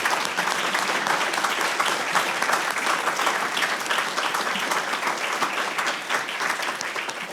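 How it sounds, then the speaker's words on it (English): A seated audience at a university board of curators meeting gives a sustained round of applause, dense and even clapping throughout with no voices over it. "I want all of you to give these folks a big round of applause."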